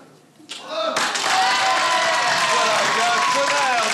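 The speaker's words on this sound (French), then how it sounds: "applaudissements" A TV studio audience applauds on the French show Les enfants de la Télé, the clapping swelling quickly from a quiet start into sustained, loud, dense applause mixed with crowd noise.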